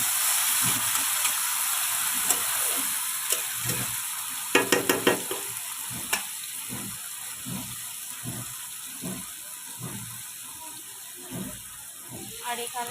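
Snails (gugli) coated in salt and turmeric fry in oil in a kadai wok, giving a steady moderate sizzle with sharp spatter pops and rhythmic stirring scrapes.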